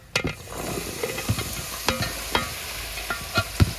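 Chopped rose apple pieces stirred in a hot pan for pickle, with a soft frying sizzle under repeated scraping and clattering spoon strokes, close and moderately loud.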